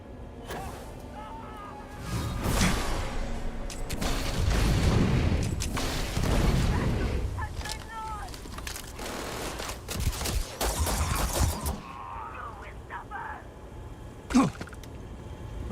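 Gunfire in the Starfield Shattered Space video game, loud bursts and booming shots in a firefight that swell and fade, followed by quieter scattered shots and a final sharp crack.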